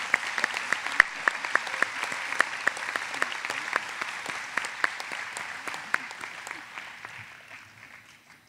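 Round of applause for graduates at a college commencement ceremony, a crowd clapping steadily with a few sharp individual claps standing out, gradually thinning and fading away over the last couple of seconds.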